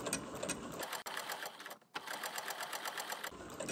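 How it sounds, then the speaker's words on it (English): Sewing machine stitching a straight seam, running in a steady rapid whir and clatter with a short pause near the middle before it starts again, close and clear with no talking. "So let's just start sewing."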